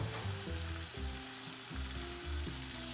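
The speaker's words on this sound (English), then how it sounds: "Next, you're gonna want to add your steak to your hot skillet." A bavette steak sears in a hot skillet, a steady broadband sizzle running throughout, with a rhythmic musical backing playing over it.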